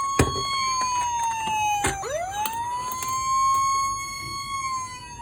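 A Hess 2000 toy fire truck runs its electronic siren, a steady tone that dips sharply, then sweeps back up and holds, loud and close, with a few clicks from the switch.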